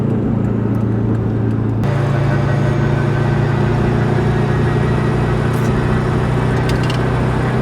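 A project Ford RS engine struggles to hold idle, a loud close droning rumble with a low steady hum that shifts pitch partway through, continuous and unbroken, with no voices over it.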